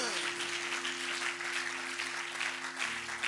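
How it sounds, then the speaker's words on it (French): A church congregation applauds the children, with steady, dense clapping from many hands held at an even level for a few seconds over a sustained organ or keyboard chord. "Est-ce qu'on peut encore acclamer pour les enfants?"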